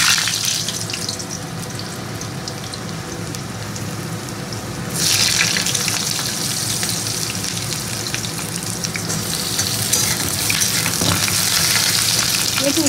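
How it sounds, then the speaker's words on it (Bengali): Potatoes sizzle and fry in hot oil in a pan, a loud, dense, continuous crackle close by that intensifies partway through, as if stirred, with no voices. "তো আলুটাকে একটু ভালো করে ভেজে নেবো।"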